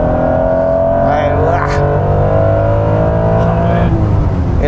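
A Honda NSX engine revs high on a circuit, its VTEC engaging with a rising, sustained roar that climbs in pitch over steady harmonics, loud and close throughout, with a voice talking over it.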